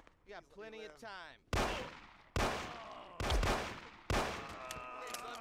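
Rifle shots from the Mafia video game: four sharp, loud blasts at roughly one-second intervals, each with a short ringing decay, following a brief stretch of a voice at the start.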